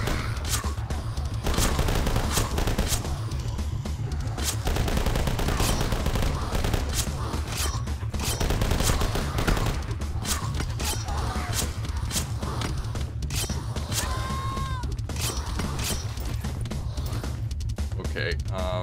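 Rapid gunfire from The Last Stand: Union City, loud and dense, with shots rattling in bursts over a busy game soundtrack for the whole stretch, with no clear pause.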